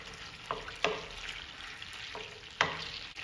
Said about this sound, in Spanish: Enseguida le voy a poner 4 chiles de árbol.